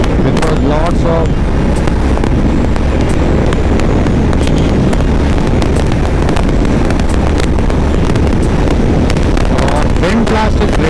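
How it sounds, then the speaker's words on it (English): Constant heavy wind buffeting roars into the microphone while riding a Honda CB350 motorcycle toward Munnar in monsoon weather, loud and unbroken, with faint voice fragments under the rush. "wind blast is great, right? So much wind blast, so much wind blast."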